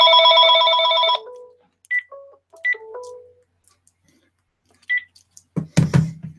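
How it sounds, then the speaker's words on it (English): A telephone rings with an incoming call: one steady electronic ring burst, then scattered short beeps and tones, ending in a few soft knocks and rustles nearby. "Oh, there's a phone call."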